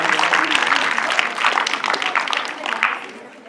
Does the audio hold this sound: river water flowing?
no